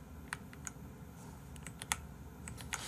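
Someone types on a computer keyboard in quick, uneven bursts of sharp clicks, fairly close, over a low steady hum, with no voices.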